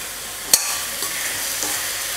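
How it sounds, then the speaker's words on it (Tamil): Mango pieces sautéing in oil for Tamil mango rice, a steady soft sizzle with light stirring and a few faint utensil scrapes, one sharp clink near the start. "ஒரு 2 நிமிஷம் மாங்காய் வந்து நல்லா எண்ணெயில் வதக்கிக்கலாம்."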